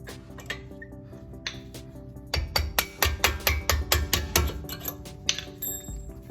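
Sharp metallic strikes drive a brake pad retaining pin out with a 5mm punch on a Lexus IS350 caliper: a run of close, evenly spaced taps, several rapid hits in a row after a few lighter clinks, with no talk.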